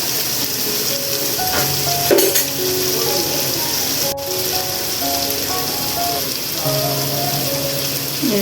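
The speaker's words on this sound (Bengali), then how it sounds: "এখন সবগুলো ভালো করে কষিয়ে নেব।" Onion and spice paste with sour yogurt sizzles and fries in a pan for a chicken biryani, a steady loud crackle with scraping stirring strokes throughout.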